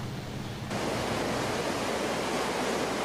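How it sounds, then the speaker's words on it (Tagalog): Heavy rain pours down steadily in Tarlac City, a dense, continuous hiss that jumps louder after a brief moment and then stays constant. "walang patid pa rin ang buhos ng ulan dito sa Tarlac City"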